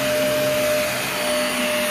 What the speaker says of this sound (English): I'm gonna clean this up and then I'm gonna continue vacuuming